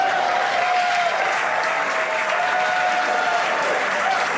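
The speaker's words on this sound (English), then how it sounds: "Crowds cheering here at SpaceX Mission Control Hawthorne as we tune in to see if we stick the landing." At SpaceX Mission Control in Hawthorne, a large crowd applauds and cheers steadily and loudly throughout, a continuous wash of clapping while a rocket booster comes in to land.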